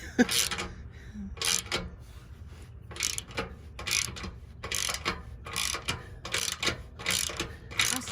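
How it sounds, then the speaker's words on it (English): A ratchet wrench clicks in repeated short bursts while a spare tire holder is mounted on a boat trailer, a steady rhythm of close, crisp ratcheting strokes separated by brief pauses. "It has like the pullback feature for me. Yeah, it's called a ratchet."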